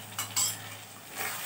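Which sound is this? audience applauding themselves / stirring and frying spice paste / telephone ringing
stirring and frying spice paste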